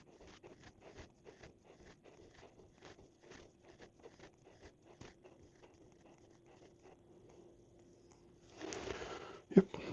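A sharp knife scores lines across the top of scone dough in a kitchen, giving a run of faint, quick scraping strokes in an irregular rhythm, close up and quiet, then a brief louder rustle near the end.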